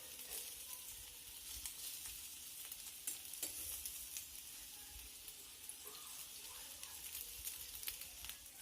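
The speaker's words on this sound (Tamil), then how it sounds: "இந்த மாதிரி 2 சைடும் டோஸ்ட் பண்ணிக்கோங்க" Stuffed eggplant toasts on both sides in a hot pan, giving a steady, soft sizzle with faint crackles throughout, and no voices.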